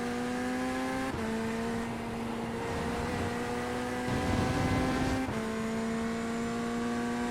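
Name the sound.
Porsche GT3 race car engine in video game iRacing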